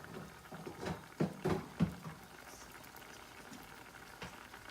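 Pot of liquid heating on a stovetop burner for a pepper casserole, giving a few soft bubbling pops in the first two seconds and then a quiet simmering hiss with one more faint pop near the end.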